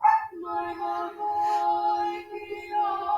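A dog barks and whines in a few close, high yelps that run into a longer whimpering cry, heard alone.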